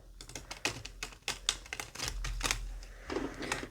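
A brand new, shiny glossy deck of playing cards being shuffled, giving a run of crisp, fluttering riffles and snaps in quick bursts, close to the microphone and alone with no talk.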